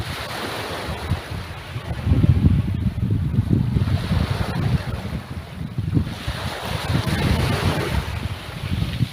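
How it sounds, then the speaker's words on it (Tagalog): Strong sea waves roar and surge continuously, with heavy rumbling swells and wind buffeting the microphone. "Malakas yung alon dito."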